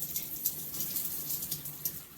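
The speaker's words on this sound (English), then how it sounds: "I'm gonna let the water run in the back in case I need it" Water runs steadily from a tap in a bathroom during a hair wash, a continuous hissing splash with small irregular spatters, close and moderately loud, no voices.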